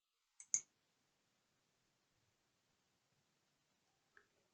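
Two sharp computer mouse clicks in quick succession near the start, then a fainter click near the end, in an otherwise quiet room.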